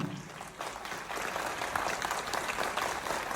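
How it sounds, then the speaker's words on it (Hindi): A seated audience at a Triple Diamond event in Raipur claps steadily, a dense, sustained wash of applause that swells after a brief dip and carries on to the end. "इतना मुंदानी ही ताली बजा लो"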